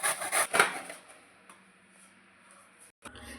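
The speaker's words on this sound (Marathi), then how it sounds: "बघू शकता तुम्ही, मोठ्या किसणीने आपण किसून घ्यायला लागले." Peeled raw mangoes rub against a large grater in a few quick rasping strokes, fairly soft and close, followed by quieter scraping and a brief pause.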